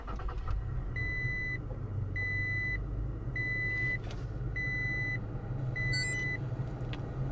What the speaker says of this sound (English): And now we turn the car on,